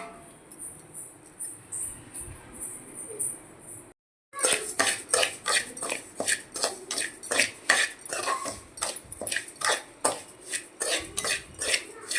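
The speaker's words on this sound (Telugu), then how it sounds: "మనమైతే గోధుమ రవ్వ అయితే వేయించేసుకుందాం" Wheat semolina (rava) is stirred and roasted in a pan, giving a run of sharp, rhythmic metallic scrapes and clinks of a spoon against the pan after a quiet start.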